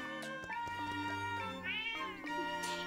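A cat meows in the video game Zelda: Echoes of Wisdom. Two or three short, bright meows sit over a steady bed of game music, clear and close.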